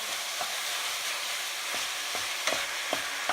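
Ground meat browns in a pan for Thai lettuce wraps, giving a steady broadband sizzle with occasional soft stirring scrapes and pops, close and alone without talk.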